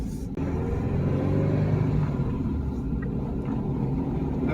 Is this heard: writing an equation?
no